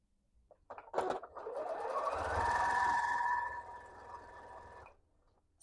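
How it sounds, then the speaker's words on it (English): Sewing machine stitching jelly roll fabric strips for a quilt at a quarter-inch seam, a steady continuous mechanical whir that rises after a few opening clicks, holds for about four seconds, then stops. "I'm going to be using that quarter seam allowance as always, and I'm just gonna sew."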